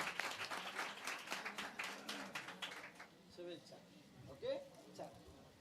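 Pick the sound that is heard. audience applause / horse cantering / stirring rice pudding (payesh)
audience applause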